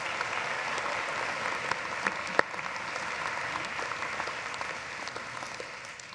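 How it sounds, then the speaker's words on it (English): Steady applause from an arena audience at a medical school commencement ceremony, honoring the musicians; dense even clapping throughout, fading slightly at the end. "Let's give them a round of applause."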